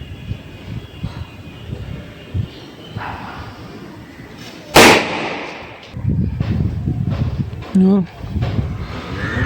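A single sharp, loud Deepavali firecracker bang bursts midway, preceded by outdoor murmuring and followed by voices talking.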